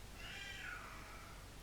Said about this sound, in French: ça c'est mon chat qui veut sortir